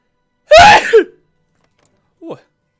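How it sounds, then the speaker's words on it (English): A single sharp sneeze from a nearby man, loud and abrupt, followed after a pause by a brief faint vocal sound. "I think I'm gonna sneeze."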